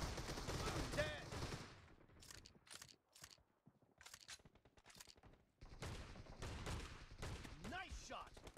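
Bursts of shotgun and rapid gunfire in the battle royale game PUBG, loud and close, separated by short pauses and mixed with crunchy in-game impact sounds.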